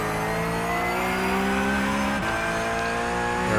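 A Porsche Cup race car on the VIR circuit accelerates at full throttle, its loud, steady engine note holding, dipping briefly as a gear changes, then pulling on again, with a faint tire squeal. No one speaks over it.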